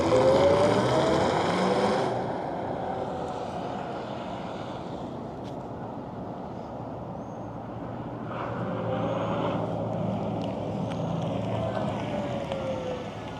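A 2025 Cadillac Optiq Sport electric SUV pulls away, a brief close whoosh for the first couple of seconds, then fades into quieter ambient road and wind noise.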